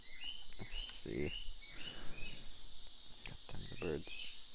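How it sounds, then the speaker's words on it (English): Loud birds chirp and tweet in overlapping bursts, with bright, high calls standing out over a steady outdoor background, while a person talks intermittently. "God damn the birds. Fucking loud."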